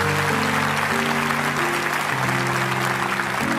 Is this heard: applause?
yes